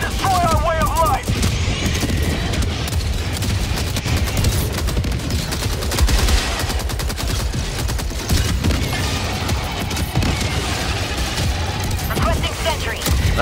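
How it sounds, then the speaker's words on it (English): A heavy machine gun emplacement in Helldivers 2 fires sustained rapid bursts amid explosions and chaotic battle noise, loud and dense, with voices talking over it. "That's actually pretty strong, that heavy machine gun placement"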